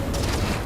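A short burst of rapid video game gunfire, loud and close, lasting under a second.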